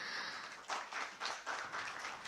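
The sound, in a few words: audience applause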